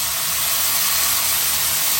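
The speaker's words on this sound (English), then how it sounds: "to this I'm going to put about an espresso cup of water because we're going to be steaming this" Steady loud hiss of water hitting a hot pan to steam cod and broccoli, a continuous broadband sizzle with no pauses or voices.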